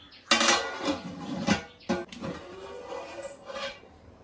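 A lid is set on a pot of thalappakatti mutton biryani, producing a few sharp metallic clanks and scrapes close by, followed by quieter rattling.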